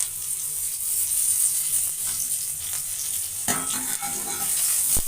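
Onion, garlic and curry leaves frying in a pan with mustard seeds, a steady bright sizzle with occasional crackles and stirring clatter, close and continuous with no talking.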